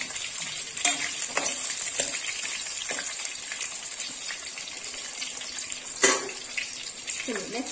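Onion shallow-fries in a pan for vegetable sambar, a constant sizzle broken by repeated scraping and clattering stirs, a couple of them sharper and louder.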